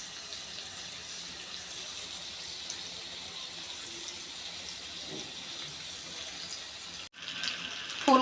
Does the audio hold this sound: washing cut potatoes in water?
yes